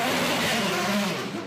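IndyCar race cars roar out of pit lane onto the track in a steady, loud engine drone with a slight rise and fall in pitch that fades a little at the end.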